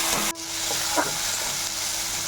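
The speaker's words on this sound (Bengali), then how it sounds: "পেঁয়াজ কুচোগুলো দিয়ে দিচ্ছি তেলের মধ্যে" Chopped onions dropped into hot oil with a little sugar in a pan, setting off a loud, steady close-up sizzle with a brief stir partway through.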